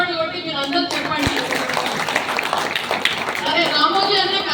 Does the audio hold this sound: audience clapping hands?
yes